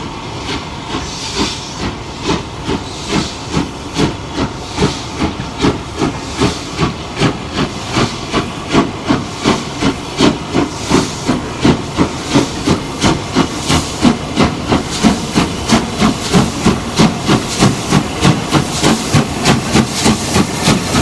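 Stanier steam locomotive 5407 working a charter train, giving off loud rhythmic chuffs and hissing steam that grow steadily stronger as it draws near, with no voices.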